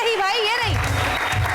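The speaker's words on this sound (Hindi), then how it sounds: "और बहुत सारी तालियां इन तमाम मोहब्बत करने वालों के लिए।" Studio audience applause on a Hindi entertainment show breaks out after a sung line fades, a dense steady clatter of many hands filling the room over a fading melodic voice.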